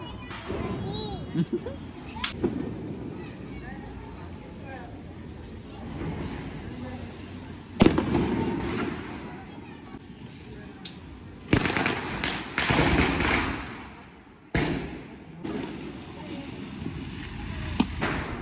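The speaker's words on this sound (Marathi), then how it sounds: "फटाके फुटतात, नुसत्या फटाके फुटतात" Diwali firecrackers burst outdoors in scattered sharp bangs and rapid crackling strings, some close and loud, others distant, while people talk nearby between the blasts.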